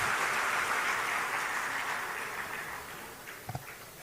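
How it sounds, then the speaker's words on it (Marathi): A large crowd at a Uddhav Thackeray political rally applauds in a broad, distant wash of clapping that gradually fades, with a couple of sharp knocks just before it ends. "जोरात टाळ्या वाजवा."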